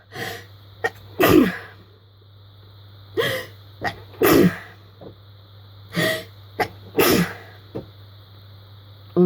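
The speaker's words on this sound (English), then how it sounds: "I cannot stop sneezing" Repeated sneezing from someone with a cold, about half a dozen sharp bursts at close range, with breathy gasps and throat noises between them over a low steady hum.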